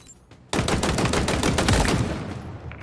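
Rapid automatic gunfire in the video game Halo Infinite, shooting at targets, a loud sustained burst of closely spaced shots lasting a couple of seconds after a brief quiet start, with no talking.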